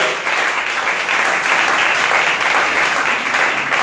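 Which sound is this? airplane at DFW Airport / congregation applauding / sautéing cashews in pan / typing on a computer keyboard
congregation applauding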